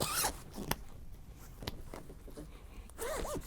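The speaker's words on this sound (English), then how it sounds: "now let's go ahead and unzip it" A zipper is pulled open along the cover of a bulletproof memory foam pillow, with a few quick rasping runs and short pauses, close and fairly quiet.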